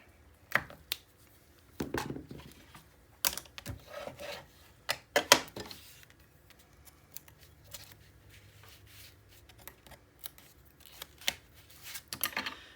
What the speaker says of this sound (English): So I'm going to tape on this side.